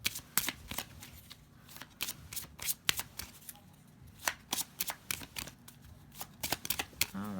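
A tarot card deck being shuffled close up, with quick, crisp riffles and slaps of the cards repeating steadily for several seconds, fairly quiet and without talk.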